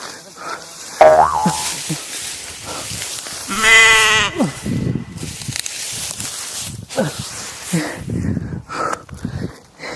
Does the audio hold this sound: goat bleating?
yes